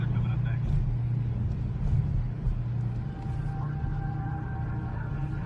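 A car drives down a street with a steady low rumble of engine and tires, close and continuous, while people talk over it.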